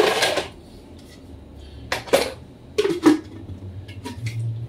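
Smoothie cups being washed up, with a few hard clinks and knocks of plastic or glass against dishes spaced over a few seconds, close by and over a low steady background hum.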